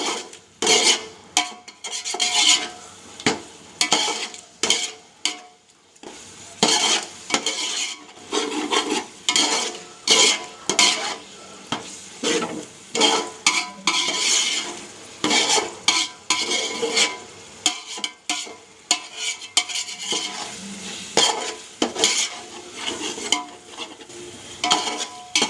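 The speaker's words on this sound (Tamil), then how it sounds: "நல்லா மிக்ஸ் பண்ணி விட்டுக்கோங்க." Chicken dum biryani being stirred and mixed in a pot, repeated scraping and rasping strokes in an irregular rhythm with short pauses, close and fairly loud, with light sizzling beneath.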